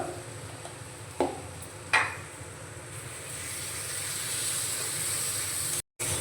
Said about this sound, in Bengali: লঙ্কাটা ভেজে নেব ভালো করে